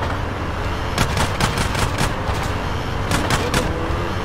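Gunfire in GTA San Andreas, rapid repeated shots in two clusters over a steady, loud game background of engine and street noise.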